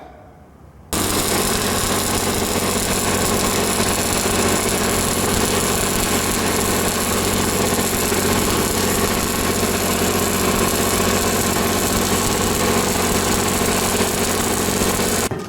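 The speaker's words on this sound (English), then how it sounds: "Let me fire the welder back up." An engine-driven welder starts up and runs steadily and loudly alongside work on brand-new tractor wheels, a continuous, even mechanical drone with constant vibration that holds unbroken from start to finish after a short quiet lead-in.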